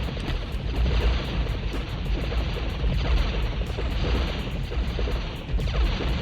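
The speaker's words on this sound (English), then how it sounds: "Man, that's a lot of explosion." Continuous roaring, crashing explosions fill a scene from the video game Die Hard Trilogy: Die Harder, a dense, loud barrage with no quiet gaps, heard without any voices.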